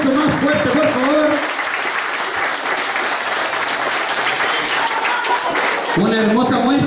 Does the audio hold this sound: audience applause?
yes